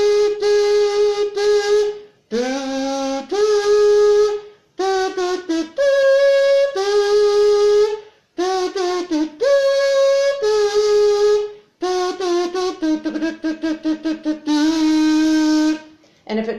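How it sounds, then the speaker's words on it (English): A homemade comb kazoo with a membrane held tight across the comb's teeth gives a buzzy, reedy hum in a series of near, loud sustained notes and short phrases, broken by brief pauses, with no talking. "You put the membrane on the outside and hold it real tight across."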